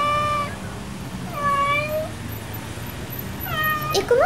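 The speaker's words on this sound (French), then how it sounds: "Petit chat, t'es seul ?" A small lone kitten, apparently a stray, meows three times in clear, rising-and-falling calls spaced about a second apart, fairly close, with soft background murmur between calls.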